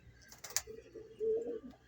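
High-value breeding pigeons cooing in a loft in Lahore, a soft low coo rising near the end, with a couple of faint clicks and rustles around it in a quiet space.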